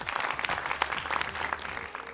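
A studio audience claps for a young female Quran reciter on a televised talent show, a moderate, fairly even round of applause with no talk over it.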